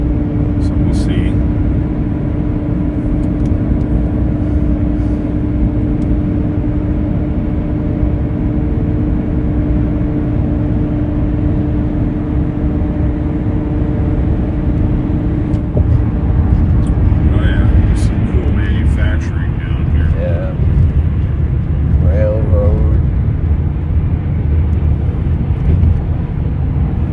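A Tesla Cybertruck CyberBeast rolls onto the top deck of an old riveted bridge, with a steady, loud road and drivetrain hum whose tire rumble shifts and roughens partway through.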